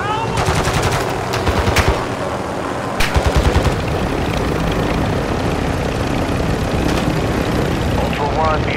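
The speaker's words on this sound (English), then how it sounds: "Taking effective fire." Gunfire in Call of Duty Warzone 2.0 DMZ at Al-Mazrah: short bursts of automatic fire crackle over a constant roar of aircraft or rotor noise, with a radio voice speaking on top.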